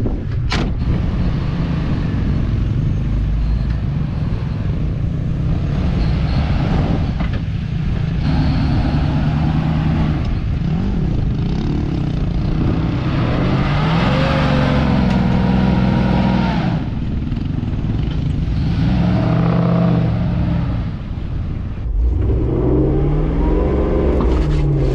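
Truck engine revving hard in sand while pulling against a rope, a loud continuous roar rising and falling as the throttle rolls on, with strained pitch sweeps near the end.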